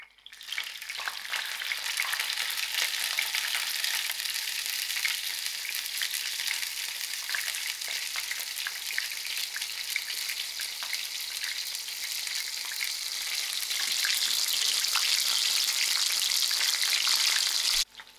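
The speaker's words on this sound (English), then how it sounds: "So to this haddock, we're going to give it a shallow fry." Haddock shallow-frying in oil makes a continuous close crackling sizzle that holds steady and grows slightly brighter toward the end, with no talk over it.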